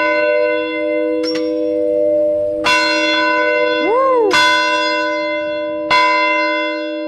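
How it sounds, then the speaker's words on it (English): A large outdoor bell rings loudly, struck several times, its deep tones ringing out and sustaining between strikes, with a swooping resonance midway. "I can't leave here without giving the bell a good ring"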